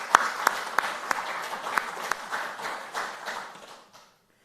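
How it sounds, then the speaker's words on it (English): Scattered applause at a faculty and staff convocation, a modest crowd clapping with a few sharp individual claps standing out, fairly distant and fading out over about four seconds. "give a round of applause to our enrollment staffs, plural, and marketing"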